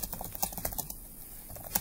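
Rapid clicking keystrokes on a computer keyboard, quiet and close, in an uneven patter with brief pauses and a few sharper taps.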